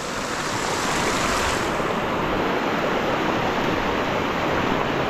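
A fast, strong river rushing through a forest after a crossing, a continuous loud churning roar heard up close, unbroken throughout with no talking.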